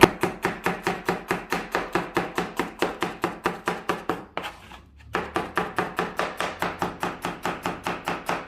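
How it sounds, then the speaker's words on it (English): A knife chops an onion into julienne wedges on a cutting board, crisp rapid strokes in a steady rhythm, close and clear, broken by one short pause midway before the chopping resumes. "So we'll cut the onion wedges, julienne."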